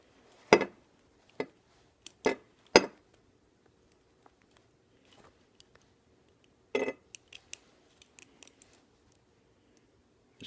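A bent paper clip works inside the lock of steel handcuffs, giving sharp, close metallic clicks and scrapes in an irregular series, a few louder snaps early on followed by fainter ticks.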